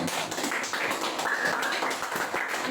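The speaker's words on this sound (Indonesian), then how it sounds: "Oke, bagus sekali, tepuk tangan semuanya." A small group in a counseling session claps together: soft, dense patter of hands held steady for a few seconds, fairly quiet, with no talking over it.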